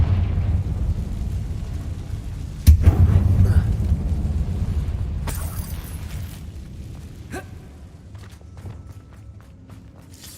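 A Confringo fire-blast spell exploding in Hogwarts Legacy, a single loud thump and burst of flame under a steady low ambient rumble, followed by scattered crackles and fainter pops as the noise slowly fades.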